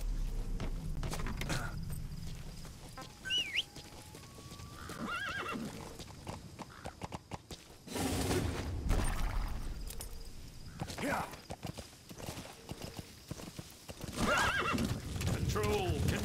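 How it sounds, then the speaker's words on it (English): A horse in the Metal Gear Solid V video game whinnies several times while its hooves clip-clop steadily, and a person talks over parts of it. "horse"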